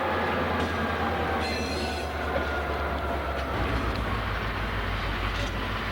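Southern Pacific locomotives and rail cars work through an industrial plant. Steady close rumbling, wheel squeal and clanking go on throughout without any talking.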